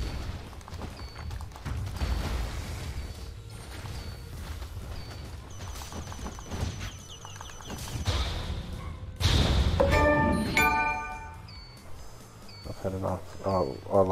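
Bomb explosions go off in a GigaBash minigame, with thuds and a loud burst partway through amid busy game effects, whooshes and music-like tones.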